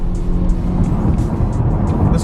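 A Honda Civic Type R drives hard along a winding back road, its engine and tire roar a steady, loud in-cabin drone with a low rumble and no voices.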